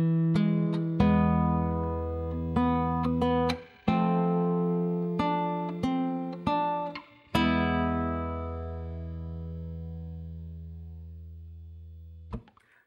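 A guitar plays a phrase from Malaguena, picking the low E with the top three strings. Sharp plucked attacks ring over a sustained bass note, and a final chord rings out alone and fades.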